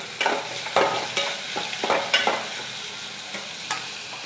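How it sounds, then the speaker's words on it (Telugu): Chopped tomato, coconut, peanuts and dried red chillies frying in a pan, with a steady sizzle and repeated stirring scrapes, close and fairly loud, with no talk. "నేను కట్ చేసుకున్న టమాటా, కొబ్బరి, పల్లీలు, ఎండుమిర్చి ఇది మగ్గుతుంటుందండి"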